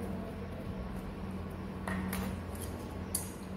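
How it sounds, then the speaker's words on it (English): A spoon stirring potash alum solution in a glass beaker makes faint, close clinks and scrapes against the glass, with a few brighter taps over a low steady hum. "let us stir it"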